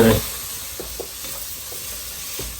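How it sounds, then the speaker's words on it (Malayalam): Steady sizzling hiss of garam masala in a hot pan for Malabar biryani, with faint scraping stirring taps now and then; no voices. "ഗരം മസാല കണ്ണും ചെണ്ട് കുറച്ച് കൊടുക്കും നന്നായിട്ട് ഇതൊന്ന് ഇളക്കുക"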